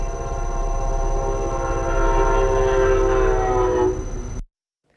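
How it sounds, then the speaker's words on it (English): A Brightline high-speed train sounds a long, loud, steady horn as it rushes past a railroad crossing, with heavy rail rumble underneath, then cuts off abruptly. "a near miss between a driver who ignored a railroad crossing arm and a high-speed train."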